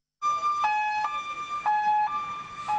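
New ambulances in a motorcade with sirens wailing, a two-tone siren alternating steadily and loudly after a brief silence, no voices over it.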